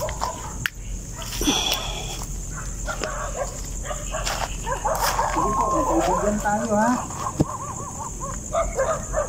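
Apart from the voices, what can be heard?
dogs barking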